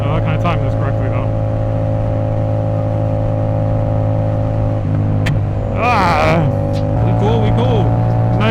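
A car engine holding a steady, loud drone at high rpm inside the cabin, then dropping off with crackling exhaust pops and a surge back up; someone talks over it.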